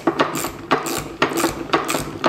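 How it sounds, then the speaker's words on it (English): A ratchet tightening hardware while building a 1/5 scale 4WD race buggy kit, giving four quick bursts of rapid clicking in an even rhythm, close and clear. "Holding it on one side, ratcheting the other."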